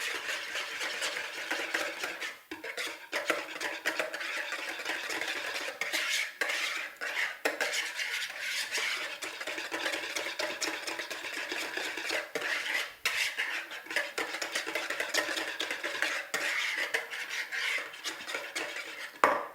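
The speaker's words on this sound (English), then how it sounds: "Gonna grab myself a whisk and get everything nicely combined." A metal whisk scrapes and clinks against a bowl while combining a sauce base, a busy, continuous clatter with small sharp knocks, close and fairly loud, with no voices.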